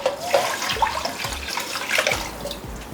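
Water is poured steadily into a pressure cooker holding rice and split moong dal for venpongal, with a continuous splashing gurgle and a few small knocks, close and clear.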